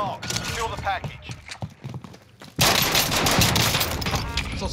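Sustained gunfire from a Call of Duty Warzone match bursts in loud and dense partway through, running continuously to the end after a stretch of quieter game sounds and radio-style voice callouts.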